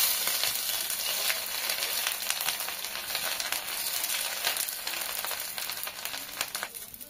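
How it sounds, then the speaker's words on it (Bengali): Bay leaves, cumin seeds and ginger hit hot oil for a Bengali fish curry, producing a steady, close, crackling sizzle with occasional sharper pops throughout. "তেল গরম হয়ে গেছে, এখন আমি তেজপাতাগুলো দিয়ে দিলাম, জিরে দিয়ে দিলাম,"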